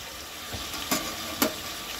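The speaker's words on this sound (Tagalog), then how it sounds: "Hintayin po natin mawala yung mga sagitsit ng tubig ng manok." Chicken pieces sizzle steadily in a pot while tinola cooks, a soft, continuous hiss broken by a few brief clatters of stirring.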